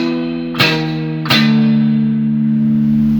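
Electric guitar power chords: two sharp, distorted struck chords about three-quarters of a second apart, the second left ringing with a loud, sustained, buzzing tone.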